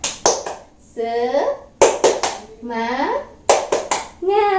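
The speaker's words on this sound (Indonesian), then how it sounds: "Tepuk semangat." A school class performs a rhythmic spirit clap, with sharp patterned clap bursts alternating with children's voices chanting in unison, repeated three times.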